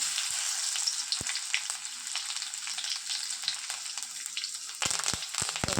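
Crushed garlic and mustard seeds frying in coconut oil, a steady close crackling sizzle with scattered pops and a few sharp spatters near the end.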